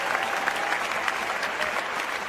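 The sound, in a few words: stadium crowd cheering and applauding a javelin thrower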